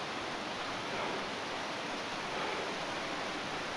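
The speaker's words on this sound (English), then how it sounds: "We were lucky enough to find waterfalls flowing today as well." Steady broadband rush of water at Leura Cascades in the Blue Mountains, an even, moderately loud falling-water hiss with no pauses and no voices.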